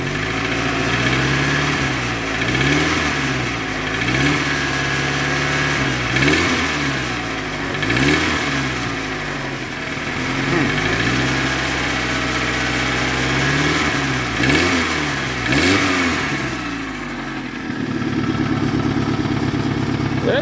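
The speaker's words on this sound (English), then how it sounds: "So let's see if what it sounds like with a little rev here." Toyota Camry 5S-FE four-cylinder after a rebuild with new oil pump, rod and main bearings, idling steadily then revved in a series of short repeated throttle blips, close and loud, settling back to idle near the end.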